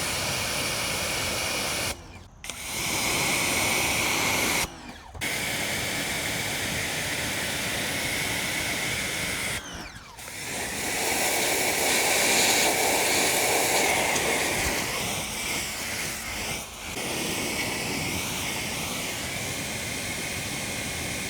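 Ryobi 1.8 GPM Automotive High Flow pressure washer blasting mud from a dirt motorcycle's suspension linkage, engine case and pipe. A close, loud, continuous hissing spray is broken by brief trigger pauses near 2, 5 and 10 seconds.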